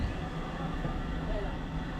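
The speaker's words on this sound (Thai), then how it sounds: "ตอนนี้รถไฟก็เข้ามาถึงสถานีแม่กรอง" A train rumbles steadily at close range as it arrives at Mae Klong station in Thailand, a continuous low roar of wheels and carriage noise with faint voices mixed in.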